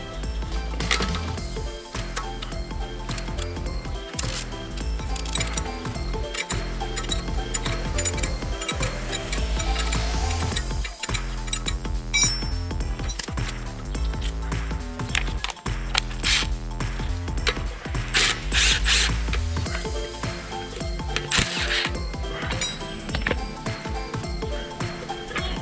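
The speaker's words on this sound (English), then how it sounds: "you can remove the top nut of the shock absorber with a 21mm socket" A socket ratchet loosens the top nut of a shock absorber on a Volkswagen Passat B8 front strut. Busy, continuous mechanical clicking and metallic ratcheting run close and steady throughout.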